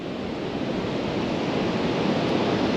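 Ocean surf at the mouth of the Powlett River near Phillip Island, Victoria: a steady, wide wash of breaking waves, fairly faint and distant, with some wind noise and no voices.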